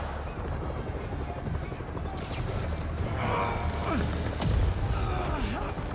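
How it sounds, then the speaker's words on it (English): A helicopter in the video game Marvel's Spider-Man 2 drones as a continuous rumbling roar, with crashes and mechanical action noises rising over it in the second half. "They're stealing a chopper."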